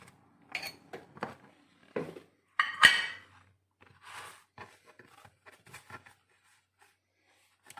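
A knife cuts through a kabab wrap on a plate, making scattered soft scrapes, crunches and a few sharper clinks against the plate, close and sparse with quiet gaps between strokes.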